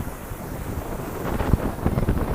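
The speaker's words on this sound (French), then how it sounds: "Heureusement qu'il y a le petit vent que vous entendez là" A light breeze on a hot day in Miami blows steadily against the microphone, a soft continuous rushing with a few gentle gusts swelling near the end, no voices present.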